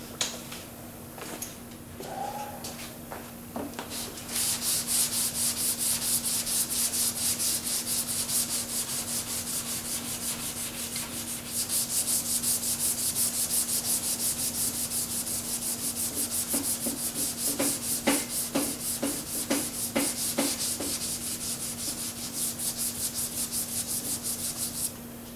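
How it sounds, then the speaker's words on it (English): Close, steady sanding of a Ford Flex bumper cover with 400 grit paper on a soft block, continuous rubbing strokes that later break into quicker rhythmic back-and-forth passes over a low steady hum. "We got 400 grit on the soft block, again with that slight little bend to it to try and help match the contour there."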